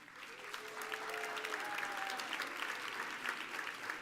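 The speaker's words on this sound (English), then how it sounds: "give them a round of applause" A convocation audience at Five Towns College welcomes new freshmen and transfer students with a steady, moderately distant round of applause that fills the whole stretch, with faint voices underneath.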